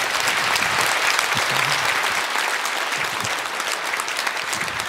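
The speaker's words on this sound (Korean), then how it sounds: "하나님께 영광의 박수, 환영의 박수로 모시도록 하겠습니다" An audience in a church service gives a pastor a welcoming round of applause: dense, steady clapping that fills the room at a constant level for the whole stretch, with no voices over it.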